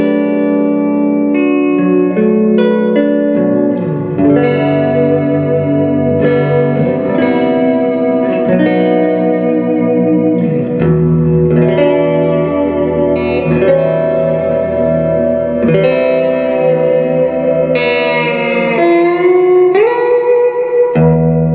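Electric guitar played through a ModTone Mini-Mod Reverb pedal, sustained chords and single notes washed in lush, expansive reverb that rings and overlaps from one phrase to the next, loud and continuous with no talking.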